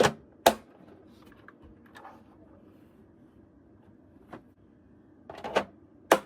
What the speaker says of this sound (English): slide both faceplates back until they click into place